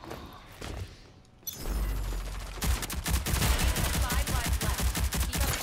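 Rapid automatic gunfire from the online shooter Rogue Company rattles in dense, continuous bursts after a short quieter lead-in, loud and close with a steady stream of shots.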